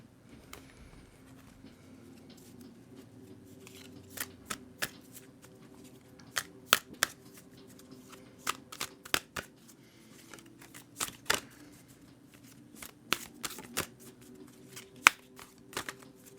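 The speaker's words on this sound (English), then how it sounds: "I'm going to go ahead and give these decks a really good shuffle" Tarot card decks riffled and shuffled repeatedly, crisp flutters and sharp snaps in irregular bursts, close up and quiet, no voices.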